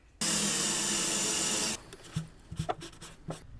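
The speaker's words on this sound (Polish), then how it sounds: "Idę robić drugą dziurę, a potem powiększam to otwornicą." A power drill with a hole saw bores through the sheet-metal body of a Renault Trafic camper, giving a loud steady whine for about a second and a half, then stopping, followed by a few scattered clicks and knocks.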